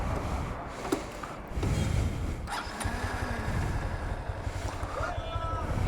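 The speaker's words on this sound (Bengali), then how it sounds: "তো বাইকের সাউন্ড আপনাদের শুনাই আমি," A Honda Hornet 2.0 185cc motorcycle engine runs steadily nearby, a continuous low rumble with a faint whine over it and what may be a voice in the background.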